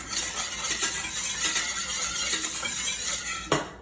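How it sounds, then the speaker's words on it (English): Steady metal whisk rattling against a bowl as olive oil is blended into strained lemon juice in a home kitchen, a busy continuous clinking and swishing, close and moderately loud throughout, with one sharper tap near the end. "whisk in some olive oil"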